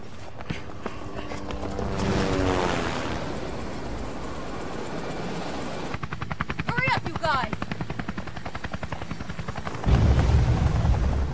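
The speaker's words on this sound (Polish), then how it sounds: "Przejdę tylko przez te drzwi i powinienem być przy helikopterze." Helicopter in the video game Resident Evil Revelations, loud rotor chop pulsing continuously through the scene, mixed with game effects, footsteps and a sharp shift partway through.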